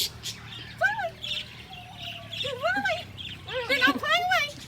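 Tropical birds including parakeets at a zoo, several sharp squawks and chirps in short bursts, fairly close, with a person's voice among them.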